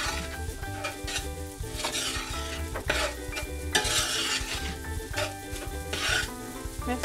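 Rice being stirred together with pepitoria in a pan, a steady scraping and sizzling churn with repeated spoon strokes, close and continuous, with no voices.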